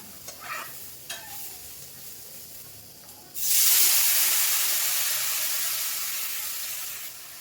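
Rice frying in a pan on a home stove: a few light taps and scrapes of stirring, then a sudden loud, hissing sizzle that bursts up and slowly fades while continuing to the end, with no talking.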